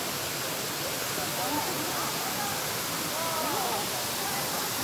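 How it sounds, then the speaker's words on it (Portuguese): A tall waterfall pours out of the Serra mountain range at Barra do Garças, Mato Grosso, making a loud, continuous broadband roar. Faint voices are buried beneath it. "Olha a altura dessa cachoeira, gente."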